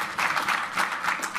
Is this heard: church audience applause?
yes